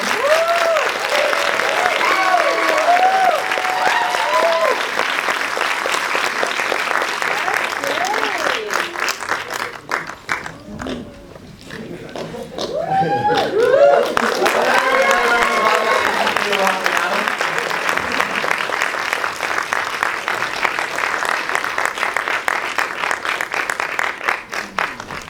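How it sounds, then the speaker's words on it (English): An audience claps at an awards ceremony, loud sustained applause that briefly dips in the middle and then swells again, with voices and cheers mixed through it. "Thanks for clapping it up."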